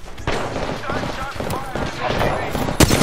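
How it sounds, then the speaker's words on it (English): Bursts of gunfire from an Apex Legends firefight ring out continuously and close, with a louder burst near the end, under excited talk between players. "Shots fired and they're hitting me."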